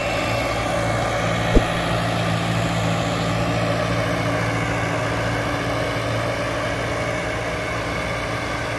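A Sonalika 750 tractor pulls a double harrow through a field, its engine holding a steady, loud, even drone throughout, with one brief click early on and no voices.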